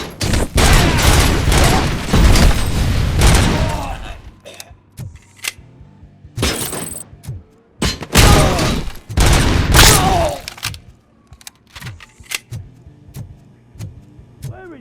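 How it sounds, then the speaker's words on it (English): Loud grenade blast followed by repeated gunfire bursts and sharp single shots in the Robocop Rogue City video game, intense combat sounds alternating with brief quieter gaps. "Grenade!"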